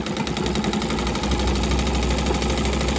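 An elderly woman's sewing machine stitches a child's belly apron, its motor running with a fast, steady mechanical whir and rapid rhythmic needle clatter, loud and close and unbroken from start to finish.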